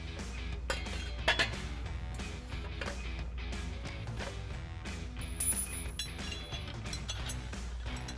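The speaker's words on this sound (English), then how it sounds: "So we'll use our 3/8 bolt with a flat washer to go through the front." Metal clinks and small mechanical clicks as 3/8 bolts and flat washers are fitted on a Flowmaster exhaust for a 2011-2014 Ford F-150, scattered light taps up close, no talking.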